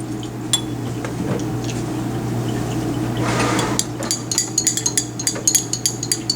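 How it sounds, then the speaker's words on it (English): Stirring acetic anhydride and aniline in lab glassware: a sloshing swirl of liquid builds, then gives way to a quick run of close, bright glass clinks and taps over a steady low hum, with no voices. "And we'll give it a stir."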